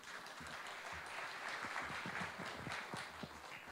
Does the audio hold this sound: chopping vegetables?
no